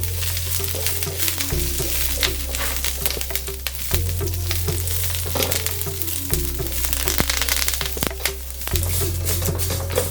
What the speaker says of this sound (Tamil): நம்ம அது என்ன மாதிரி எண்ணெயில் பொரிக்க வேண்டான்றதுக்காக ஷாலோ ஃப்ரை பண்ணுறேன்.